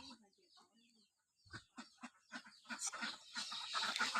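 Hens and ducks at a Bangladeshi home cluck in a quick series of short, repeated calls that start sparse and grow denser and louder, with farmyard bustle behind them.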